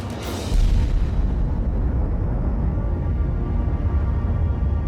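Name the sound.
H-bomb thermonuclear test explosion in the Pacific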